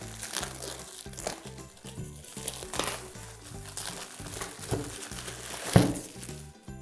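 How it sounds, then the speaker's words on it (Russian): Plastic film crinkles and crackles almost continuously as it is peeled off a set of wooden Chaplygin letter cubes, with fairly close, busy rustling and a sharper crunch near the end. "Берем пленку."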